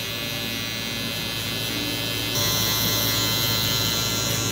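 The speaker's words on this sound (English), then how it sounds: "now with our hard trimmer, I'm gonna go ahead and clean out this bottom line right here before balding out." Hair trimmer buzzing steadily at close range while cleaning the bottom line of a mid low fade haircut, a continuous electric whine that grows slightly brighter and louder partway through.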